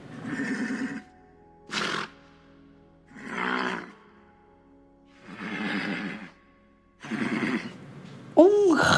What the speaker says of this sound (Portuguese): Um relincho